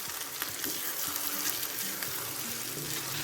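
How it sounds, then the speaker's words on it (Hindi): Chicken sizzles in a karahi while it is stirred and mixed for white karahi, a constant close frying hiss with occasional scraping, no talk. "अब मैं इसमें ऐड करूंगी चिकन और इसे अच्छे से मिक्स कर लेंगे"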